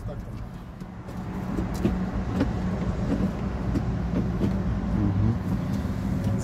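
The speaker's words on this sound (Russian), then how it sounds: "Заводится, едет." A worn Lada Largus starts and drives off at a car auction lot, giving a low, steady engine rumble at moderate distance, with people talking over it.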